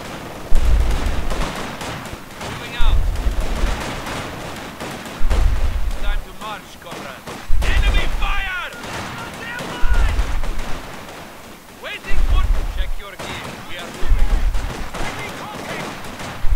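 Machine-gun fire and heavy battle noise from Company of Heroes 2 come as loud, regular bursts of booming shots every couple of seconds, with someone talking over the fighting.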